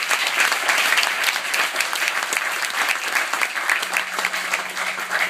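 An audience claps for young finalists at a competition, a loud and sustained burst of applause from many hands. The clapping fills the hall evenly throughout, with a faint hum underneath near the end.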